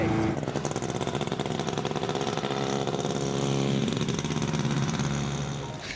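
A DKW Supersport motorcycle engine runs steadily, a close, continuous buzzing drone that holds a constant pitch, swells slightly midway and fades a little at the end, with no talk over it.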